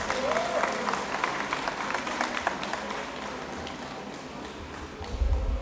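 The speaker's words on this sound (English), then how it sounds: "So I think I need a big clap for the teachers and Shafaq ma'am of this school." An audience of schoolchildren and guests claps for teachers at a school alumni meet, sustained applause with scattered distinct claps, moderately loud and fading slightly toward the end, with a low thump at the close.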